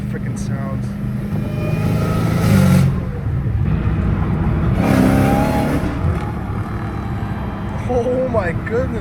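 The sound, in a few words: Dodge Hellcat Redeye catless exhaust downshifting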